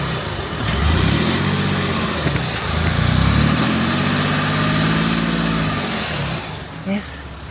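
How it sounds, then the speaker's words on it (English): A Range Rover Sport L494 3.0-litre diesel with an under-boost fault revs up twice from idle, a steady broadband hiss riding over the rising and falling engine drone, close and fairly loud. "give it a little rev, Matt."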